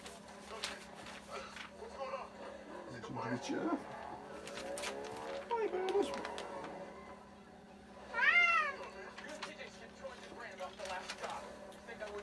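A house cat meows several times, with a clear rising call near the end. The meows are fairly faint and come between moments of quiet background noise.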